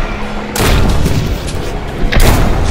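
Two loud booming gunshots from a weapon in the survival horror wave shooter Propagation VR, close and heavy with a long rumbling tail, the second following the first after about a second and a half.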